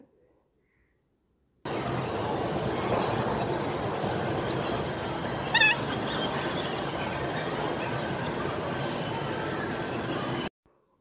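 An amusement park ride train rumbles steadily past up close, with clattering wheels and a brief high squeal midway, then cuts off abruptly.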